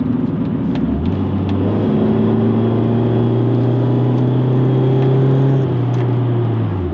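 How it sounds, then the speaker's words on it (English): A 1994 BMW E36 318iS race car engine drones loudly and rises in pitch as it revs while downshifting, then settles into a steady hum after the gear change. "And the engine has just a really nice noise. So if we shift down"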